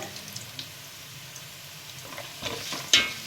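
Chopped large onion and curry leaves fry in hot oil for tomato rice, a steady soft sizzle with occasional stirring scrapes and a sharp clink near the end.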